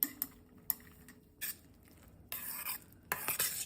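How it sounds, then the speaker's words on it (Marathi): A spoon stirs boondi into whisked yogurt raita with salt, chili, chaat masala and coriander: sharp clinks against the bowl followed by short bursts of wet mixing and scraping, close and quiet. "आता बुंदी मिक्स करूया."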